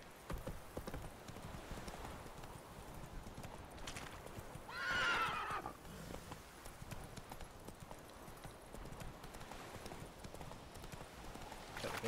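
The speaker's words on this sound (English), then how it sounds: "Run, Roach. My trusty steed." The horse Roach in The Witcher 3 galloping with steady rhythmic clip-clop hoofbeats, and a single loud whinny rising midway over the running hooves.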